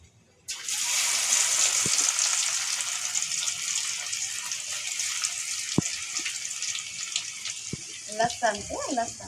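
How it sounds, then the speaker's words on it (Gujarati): Mustard seeds, cumin, garlic and leaves sizzling and crackling in hot oil while tempering chole, a steady loud hiss throughout with a few sharp pops and brief background speech near the end. "તો આને તો વઘાર ચાલુ કરી દીધો જો"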